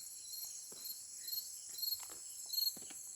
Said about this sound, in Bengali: খালি ঝিঝি পোকার ডাক